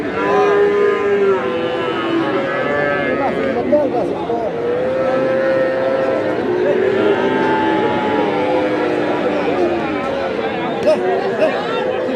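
Heifer calves moo loudly and repeatedly nearby amid a busy cattle market crowd's chatter at Hazratpur, Keraniganj, voices and lowing overlapping throughout.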